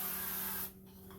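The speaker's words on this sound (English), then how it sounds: "I spray it with some olive oil." Olive oil sprayed from a pump bottle onto meat at a tailgate cookout, a loud steady hiss for about half a second that cuts off abruptly, leaving a low hum.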